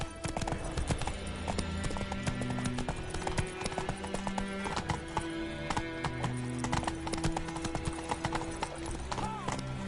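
Geralt's horse Roach trots in The Witcher 3, a steady, rhythmic clip-clop of hooves heard up close over game music, with a faint whinny-like tone.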